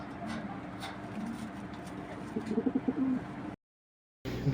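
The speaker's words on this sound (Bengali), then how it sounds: "আজকে বেশ কিছু রেসার কবুতর নিয়ে আসছি" Racer pigeons coo softly at close range, a low rolling burst of coos over a background murmur, then a brief gap of silence before the sound resumes.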